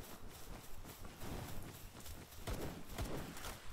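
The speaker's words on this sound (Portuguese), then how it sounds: "agora tenho estes burros aqui também" Rhythmic hoof clopping of donkeys moving at a steady pace in the video game Palworld, mid-distance, over a busy game soundscape with no talking.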